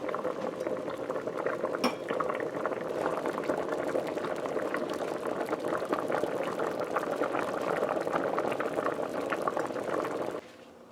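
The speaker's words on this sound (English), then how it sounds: "while our channa is boiling, our channa mix is boiling" A pot of chickpea mix bubbles at a steady rolling boil, a dense wet burble that continues without pause, with a faint clink early on.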